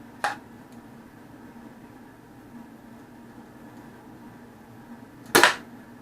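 A version 1 X-Dart toy blaster fires in an accuracy shootout: a short sharp pop near the start and a louder, crisper snap near the end, separated by quiet background.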